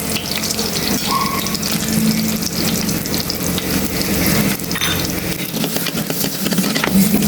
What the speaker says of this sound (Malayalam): ചൂടായ വെളിച്ചെണ്ണയിലേക്ക് കുറച്ച് ചെറിയ ഉള്ളി ഇട്ട് കൊടുക്കാം